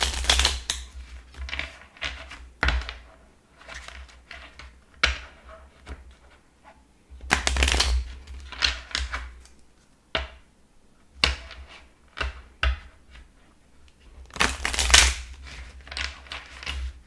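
Tarot cards being shuffled by hand give repeated bursts of riffling, flapping and slapping, close and irregular in rhythm, with short pauses between rounds.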